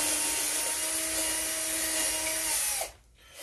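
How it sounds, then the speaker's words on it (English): A power drill whines steadily as its bit circles to widen a hole in wood for a mini hibachi build, with a grinding, rubbing bite, then abruptly cuts out near the end. "just going around and around and around with this drill bit hoping it'll widen that hole out"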